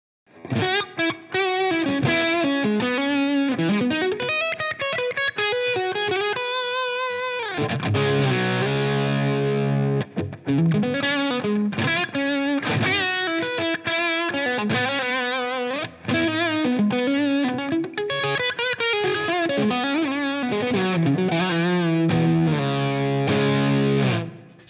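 A loud, distorted electric guitar through a REVV Tilt Overdrive pedal with bass turned all the way up, full and heavy in the low end, plays a continuous riff of strummed chords and single notes.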